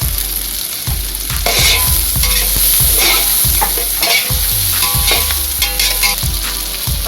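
Sliced onions and curry leaves fry in hot sesame oil over a rocket stove for chicken biryani, a loud continuous sizzle broken by a rhythmic series of scraping stirs of the pan.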